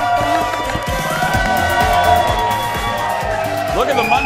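A Monday studio audience at a talk show cheers and whoops loudly and continuously, with a host speaking over the crowd noise.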